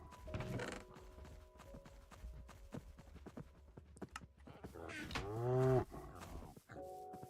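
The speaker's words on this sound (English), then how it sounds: "Then we come over here and we got cows." Minecraft cows give a low, drawn-out moo near the end, standing out over a busy game backdrop of clopping footsteps, creaks and scattered clicks, with no voices.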